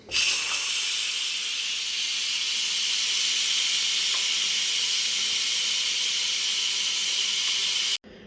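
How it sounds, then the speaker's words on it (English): An Instant Pot pressure cooker vents steam from its release valve with a loud, steady, close hiss that holds for about eight seconds and then cuts off abruptly, with no talking over it. "I've pulled it back and I'm gonna reach around and here goes the steam."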